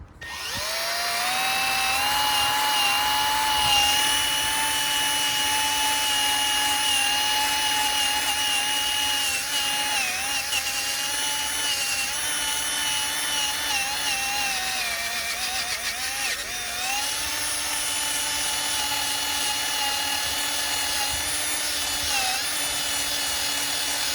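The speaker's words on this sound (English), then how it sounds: "But I put it on the drill on high speed," A cleaning pad spinning at high speed on a power drill while cleaning a Honda Foreman ATV engine, giving a loud, continuous high-pitched whine that wavers slightly in pitch as pressure changes.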